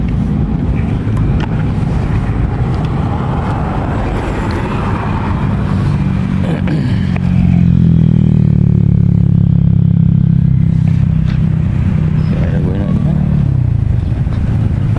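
A motorcycle engine roars close by and climbs in pitch as it revs while riding in Dapitan City, with wind rumble throughout.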